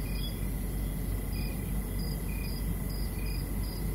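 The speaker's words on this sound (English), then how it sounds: "See how much time you can spend just on crickets?" Crickets chirp in steady, repeating pulses over a dense, continuous nighttime nature ambience, the high trills layered and overlapping at a constant loudness with no voices.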